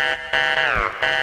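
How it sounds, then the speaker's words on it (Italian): A harsh electronic doorbell buzzer sounds in three short bursts, loud and close, the middle one wavering in pitch. "Vedi, questo era il mio campanello di casa."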